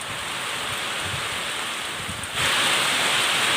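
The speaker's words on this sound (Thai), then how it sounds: "โอ้ยลมแรง ทั้งลมทั้งฝนครับ" Wind and heavy rain roar in a dense, continuous wash that suddenly swells louder partway through as the downpour intensifies, close and enveloping with no voices.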